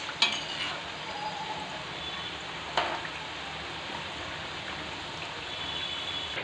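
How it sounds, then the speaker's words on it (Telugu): Wheat flour and jaggery balls fry in hot oil until golden brown. A steady, even sizzle holds throughout, and a couple of sharp clinks from a utensil cut in near the start and midway. "గోల్డెన్ బ్రౌన్కి వచ్చే వరకు వేయించుకోండి ఫ్రెండ్స్"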